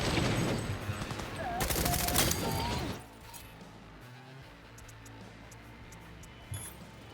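A light machine gun in Cyberpunk 2077 rattles off a loud, rapid burst for about three seconds, then cuts off, leaving quieter game ambience with faint ticks and clicks.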